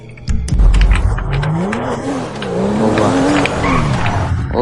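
A Porsche races fast and hard to control in GTA 5, its engine roaring loud and close while the tires squeal and skid in long wavering whines.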